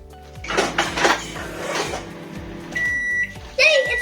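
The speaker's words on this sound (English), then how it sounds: "And now we put it in the oven for 1 minute." A microwave oven cooks an eggless Oreo cake with a steady low hum, joined by a few clatters of handling dishes and a door, then a high beep near the end.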